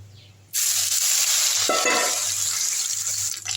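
Dried anchovies frying in hot oil: a sudden loud burst of sizzling that holds as a dense, steady crackling hiss, close up, with a brief stirring scrape partway through.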